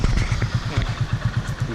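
A Hero Honda Passion Pro motorcycle idling close by in Varkala, India, its small engine putting out a quick, even low putter with light mechanical clatter.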